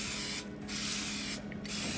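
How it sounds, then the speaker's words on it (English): Non-stick cooking spray hisses onto mini loaf pans in two short bursts, close and loud, separated by a brief pause. "we're gonna spray this with non-stick spray"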